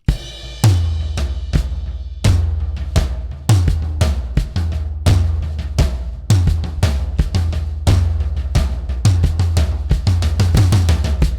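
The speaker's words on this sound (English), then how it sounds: "you actually establish the groove with your tom drums." A drum groove built from tom hits laid over kick drum plays a steady, punchy rhythm of resonant booming strikes, close and loud, growing busier toward the end.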